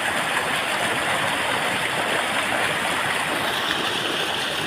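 Rainwater runs in a swollen river channel after heavy rain on its way to the Shetrunji river. It makes a continuous, fairly loud rushing flow with an even, unbroken texture.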